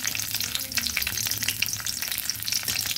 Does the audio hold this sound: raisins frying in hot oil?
yes